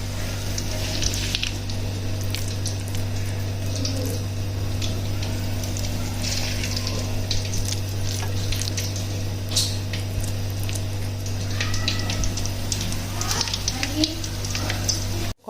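Pakoras hand-dropped into hot oil frying with a steady low sizzle and bubbling, heard close over a constant background hum, with someone talking over it at times.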